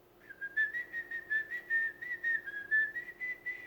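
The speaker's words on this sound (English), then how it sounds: "Where is your tongue when you whistle high notes?" Someone whistles a series of short high notes, a clear, fairly quiet run of pulses at a steady pitch with no talking.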